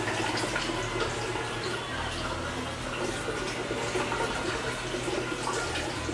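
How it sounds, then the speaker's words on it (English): Water pours steadily into a one-gallon jug to top it up for a homebrew wine cooler, a constant close splashing rush with no pauses and no talking. "we're just going to top this up to the 1 gallon mark"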